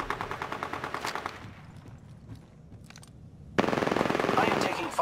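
In Apex Legends, a rapid automatic burst rattles out and stops, followed by a quieter lull with scattered clicks, then a second loud, sustained burst of fire.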